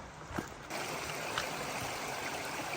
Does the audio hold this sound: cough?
no